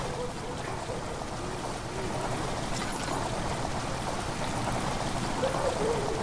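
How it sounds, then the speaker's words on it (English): Water rushes steadily into a cistern chamber in Amnesia: The Dark Descent, giving a constant, moderately faint, hollow pouring wash with no breaks. "Water rushing into the chamber makes a strange sound."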